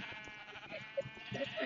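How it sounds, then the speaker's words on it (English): Sheep in Minecraft bleat faintly in short nasal calls amid soft background noise and movement, several brief bleats scattered across under two seconds. "look at these sheep"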